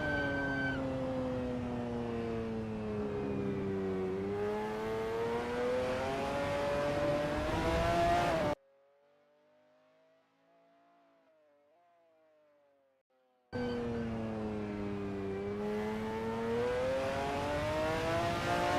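A McLaren F1 GTR race car at Daytona drives through a turn, its loud engine note dipping and rising again as it brakes and accelerates. The sound cuts to near silence midway, then resumes at full volume.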